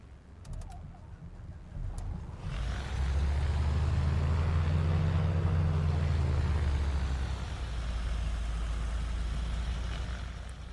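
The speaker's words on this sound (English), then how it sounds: "I'm commencing engine start." Propeller airplane engine starting in Microsoft Flight Simulator at Palo Alto, a few clicks then a rising cranking rumble that catches into a loud, low steady drone, easing slightly toward the end.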